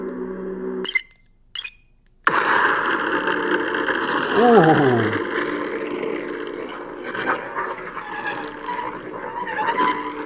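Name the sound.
lightsaber sound font like a speeder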